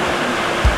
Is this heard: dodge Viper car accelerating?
no